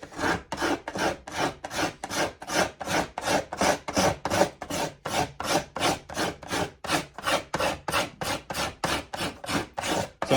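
A hand scraper works over violin wood in a long run of quick, evenly spaced rasping strokes, close and crisp, about two or three per second, with no voices over it.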